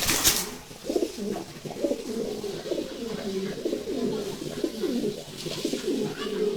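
Caged pigeons at a pigeon farm coo repeatedly in low, rolling, overlapping phrases, near and moderately loud, with a brief clatter at the start and another soft knock later on.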